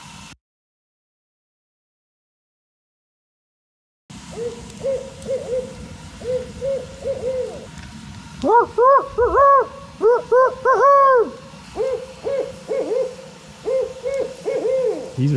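An owl hoots repeatedly at a remote pond in Maine, rhythmic two- and three-note calls close by, growing stronger midway, after a few seconds of silence at the start.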